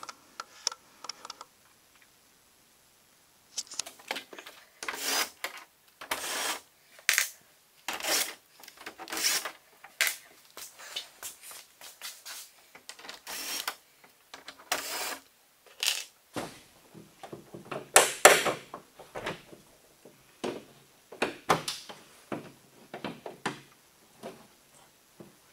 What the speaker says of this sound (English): there's also, I believe, 3 little clips like this that you gotta compress the tabs on to remove